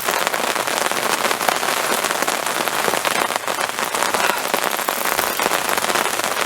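Heavy rain pouring down during a carp fishing session: dense, loud, steady patter of drops hitting surfaces nearby, continuous throughout.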